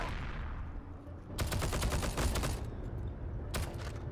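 Rapid gunfire bursts in Heroes & Generals, a dense volley crackling for about a second, then a short lull and a second quick burst near the end, loud and up close with no talk.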